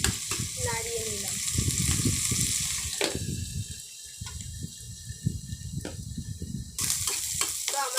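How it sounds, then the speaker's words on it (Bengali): Shredded cabbage sizzles in a pan while cooking for a mixed noodle dish. A steady, close hiss of frying runs throughout, with occasional scraping and stirring noises. "তো আমাদের বাঁধাকপিটা ভাজা ভাজা হয়ে গেছে।"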